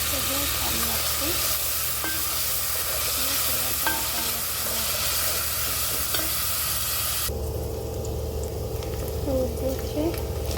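Onion sizzles in hot oil in a pot while lasagna filling is prepared, a steady dense crackle that runs throughout with a slight change in tone partway through.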